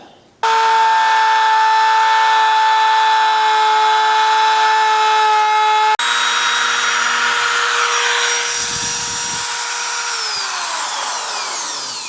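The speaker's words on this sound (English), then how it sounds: "Now I flip the router around and do the other side." A router cutting into the wood of a broken guitar headstock screams loud and steady with a high whine, shifting in tone as the cut changes, then winds down as the motor slows at the end.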